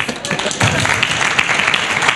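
Applause from a studio or event audience, broadband clapping noise that swells after a moment and carries on steadily at moderate loudness, with a faint voice mixed in.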